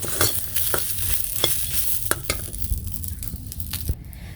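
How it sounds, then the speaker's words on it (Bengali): Garlic frying with chili and black cumin, stirred in a pan; a steady close sizzle with scraping stir strokes at irregular intervals, no voices. "রসুনটা একটু মরিচের সাথে ভেজে নিই আর দিয়ে দিলাম হলো কালো জিরা সব একটু ভেজে"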